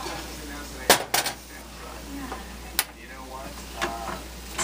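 Beef stroganoff meat and mushrooms tipped into a preheated cast iron Dutch oven, with sharp metallic clanks and scrapes of utensils against the pot over a low sizzle.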